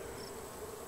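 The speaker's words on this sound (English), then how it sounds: "Oh, and there's more bees." Bees in the Raft survival game, a soft continuous insect buzz with a steady drone and no other sounds.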